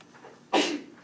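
A single sudden sneeze in a classroom, short and sharp after a brief quiet lead-in, moderately loud and a little distant.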